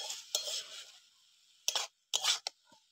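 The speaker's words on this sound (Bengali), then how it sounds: "দিয়ে এবার ভালো করে নেড়ে চেড়ে দেব" A spoon stirs banana stem curry in a pan, giving a few short scraping and clinking strokes that are fairly close and quiet, with gaps of near silence between them.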